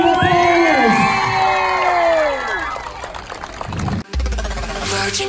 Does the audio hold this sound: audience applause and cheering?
yes